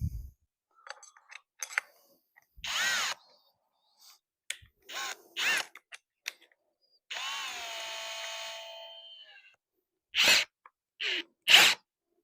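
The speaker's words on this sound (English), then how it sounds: "while drilling your hole for your spade bit" A spade bit bores a hole into wood, heard as a sustained, harsh power-drill whir lasting a couple of seconds, with short bursts of tool noise and clicks before and after. No voices are heard.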